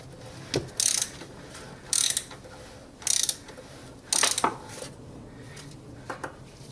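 Ratcheting clicks from tightening an oil filter cap on a 2005 Peugeot petrol car, sounding in about five short bursts at a steady rhythm, close and fairly loud with no talk.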